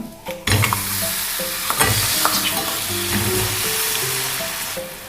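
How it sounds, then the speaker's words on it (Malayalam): Steady sizzling of jaggery in ghee in a hot pan for sabudana halwa, with occasional stirring scrapes and clinks, loud and close, no voices. "ഇനി ഇതേ നെയ്യിലേക്ക് തന്നെ ശർക്കര ചേർത്ത് കൊടുക്കാം"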